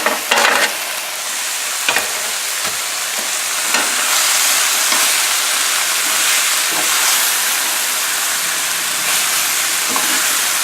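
Sausage and peppers cook in a pan, giving a steady, close sizzle and hiss that runs the whole time. A few scraping stirs come near the start, and no one speaks.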